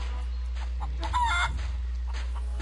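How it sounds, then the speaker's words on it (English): A feral chicken in the video game Curse of Monkey Island clucks and crows in a bright, choppy burst midway, set against a steady low in-game hum. "Feral chicken."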